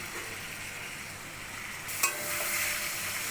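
Vegetables and a fish head being stir-fried in a pan with vinegar and soy sauce, a continuous close sizzling hiss with a brief clatter of stirring midway, no talking.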